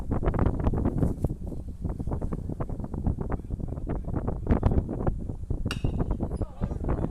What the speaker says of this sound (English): Another windy day, just as it was yesterday.